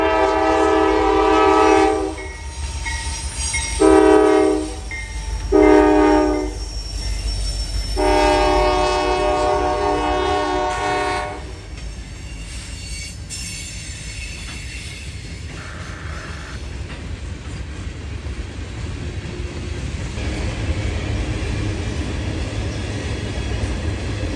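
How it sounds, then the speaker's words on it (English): Freight train 19W, a long train whose rear half is grain hoppers, rolls past in Marion, Ohio, sounding a loud horn in several long blasts over the steady rumble and clatter of its cars. "19W can sometimes be a pretty big train, and today he is."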